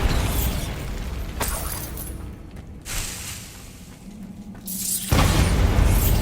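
Bombarda spell blasts in Hogwarts Legacy inside Moonstone Cave: heavy booming explosions with crumbling, shattering debris, loud bursts separated by quieter rumbling gaps, ending in a final powerful blast.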